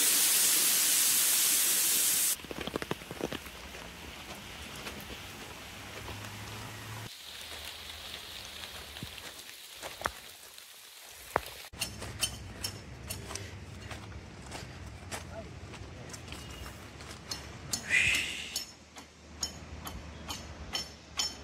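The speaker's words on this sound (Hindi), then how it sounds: "बारिश हो रहा है ज़ोरों से और ठंडी लग रहा है" Heavy rain falls on a cold, foggy hill trail in Matheran: a steady hiss of downpour with scattered drops hitting surfaces, a few knocks and clinks nearby, and no talking.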